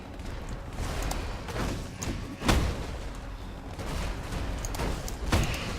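Two sharp booming blasts punch through a dense, continuous layer of game noise and rumble, with smaller thuds scattered between them, from blue explosions in Path of Exile.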